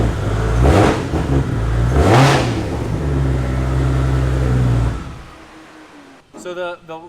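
A Barra-swapped GT350 engine on a dyno revs hard twice with a raspy exhaust, then holds a steady loud drone before cutting off; a voice speaks briefly near the end.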